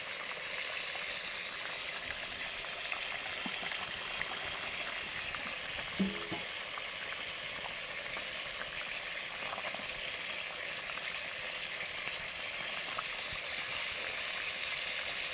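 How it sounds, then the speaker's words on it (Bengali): Fish curry broth boiling in two woks gives a quiet, steady bubbling sizzle that runs on evenly, heard close but faint, with no talk. "দুটো কড়াইতে দুটো রান্না হচ্ছে, ঝোল ফুটে গেছে"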